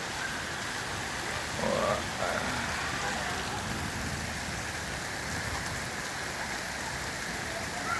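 Heavy rain pours down steadily in an even, dense hiss of drops striking surfaces, with a brief swell partway through and no clear voices.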